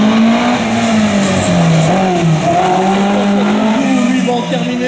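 A race car in a slalom event at Saint-Lô accelerating, its engine droning loud and continuous with rising and shifting tones and some tyre noise, while a commentator talks over it.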